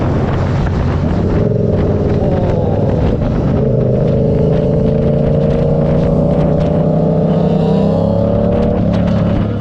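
Yamaha R7 motorcycle engine pulling hard under acceleration, a loud continuous rising drone heard up close with wind noise buffeting over it.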